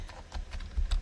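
A short burst of computer keyboard typing while an email address is entered, with a handful of close, crisp key clicks over a low background hum.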